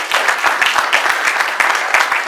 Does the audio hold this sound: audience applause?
yes